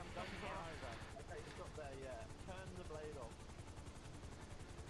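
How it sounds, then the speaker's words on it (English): Gunfire in GTA Online, repeated shots fired near another player, mixed with a helicopter-like rotor drone and dense game noise, under continuous talking from players. "I'm just shooting near you so they sort of can see."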